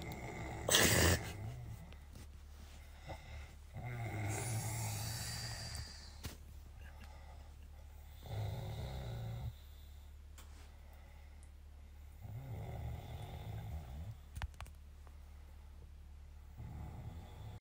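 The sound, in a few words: person snoring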